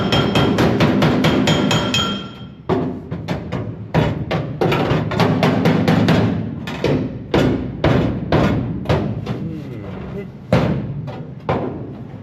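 Sheet metal on a car tunnel worked with a spoon and dolly, a rapid series of sharp ringing metallic hammer strikes in quick bursts with short pauses, loud and close, a voice speaking briefly between blows.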